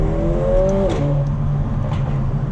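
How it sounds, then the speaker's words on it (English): Mercedes A45 engine pulling on twisty roads, heard from inside the car, with a rising drone that drops sharply on an upshift, with a crack, before steady revving resumes. "Get lovely cracks on the upshift. And some burbles when you let off."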